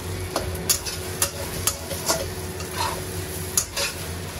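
Egg fried rice with salmon floss and dried scallop being stirred and tossed in a wok over high heat, giving steady sizzling broken by repeated sharp scrapes and clacks of the spatula against the pan.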